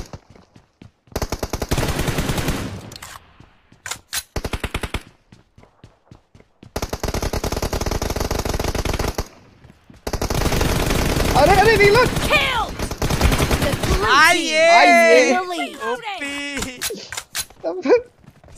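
Bursts of automatic gunfire in a mobile shooter video game, loud and close, coming in several separate volleys with silent gaps between them, followed by wailing game sounds and excited chatter over the end.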